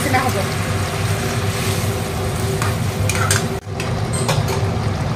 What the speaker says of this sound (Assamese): এতিয়া এনেকৈ অকণমান দি একেলগতে এনেকৈ ভাজি দিব লাগিব